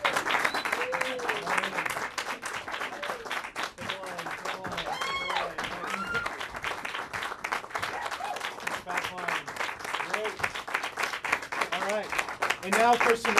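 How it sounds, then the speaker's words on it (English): Steady, dense applause from an audience at a community improv theater show, with whoops and voices mixed into the clapping throughout. "give a big warm round of applause for the Brody Theater players"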